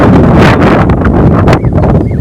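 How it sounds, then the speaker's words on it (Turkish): Strong wind buffets the microphone in loud, rumbling gusts that roar and drop without pause. "çok dehşet rüzgar esiyor şu anda."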